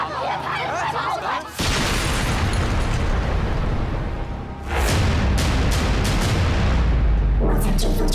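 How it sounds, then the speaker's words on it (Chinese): Bomb blast in a Chinese crime thriller film trailer, a sudden loud explosion followed by a sustained roar and rumbling debris, with further sharp bursts near the end. "我在这座城市安装了三颗炸弹，这是威力最小的一颗"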